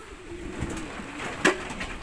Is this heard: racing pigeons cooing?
yes